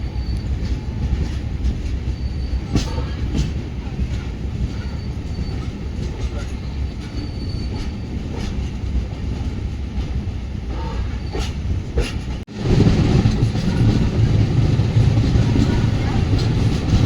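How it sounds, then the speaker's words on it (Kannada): A train running from Nanded to Yesvantpur rumbles past close by as a steady, loud roar of wheels and carriages on the rails, with a sudden surge in loudness near the end as it passes. "ಪೇರಿಂಗ್ ಟ್ರೈನು ನಾಂದೇಡಿಂದ ಯಶವಂತಪುರ್ಗೆ ಹೋಗ್ತಿದೆ"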